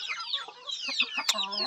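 Chickens clucking close by in a backyard flock, several short soft calls in a loose irregular rhythm, fairly quiet.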